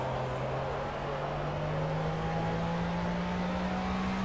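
A car engine in the racing game Project CARS drones steadily while doing donuts, a continuous hum whose pitch creeps slowly upward, with no clear revving bursts.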